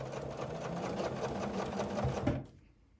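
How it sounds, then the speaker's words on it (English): A sewing machine running steadily at speed, stitching one long quarter-inch seam on a placemat, its rapid needle rhythm continuous and close before cutting off abruptly near the end. "I'm just going to sew one long seam there"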